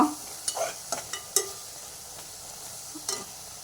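Vegetables with masala powder stir-frying in a pan for veg biryani, a faint steady sizzle with several sharp utensil clinks and scrapes scattered through it, close by.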